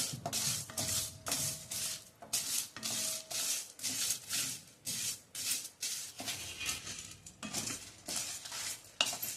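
Black peppercorns, cumin and coriander seeds are dry-roasted together in a pan for raw mango rasam. A spoon scrapes and stirs them in repeated rhythmic strokes with faint rattling of the seeds.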